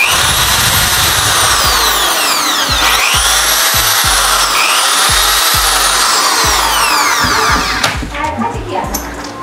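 An iBell TD13-100 electric drill machine runs loud and close, its motor whine rising and falling with speed changes over rattling, pulsing low tones, then cutting off near the end.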